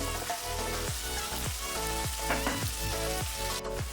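Onion and ginger fry in hot oil, a continuous dense sizzle with a regular rhythm of stirring strokes and a steady low hum underneath.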